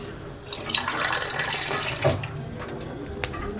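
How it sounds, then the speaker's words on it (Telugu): Water poured from a glass into a pan of sugar for syrup, a close, steady splashing pour lasting a few seconds with a small clink at the end. "ఈ గ్లాస్తో రెండు గ్లాసులు నీళ్లు పోస్తా"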